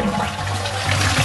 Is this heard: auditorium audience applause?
no